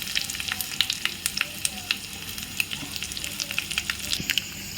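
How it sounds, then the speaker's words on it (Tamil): Mustard seeds, cumin and dried chillies sizzle in hot oil with a dense, steady crackle and rapid small pops, close and clear, no voices. "எண்ணெய் காஞ்சிடுச்சு. இப்போ கடுகு போட்டுக்கலாம். சீரகம், காஞ்ச மிளகா யூஸ் பண்ணுறேன்."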